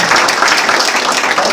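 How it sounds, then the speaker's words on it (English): A short burst of steady applause from an audience at an evening news event, dense and moderately loud, with no voices over it. "So one more round of applause for these guys."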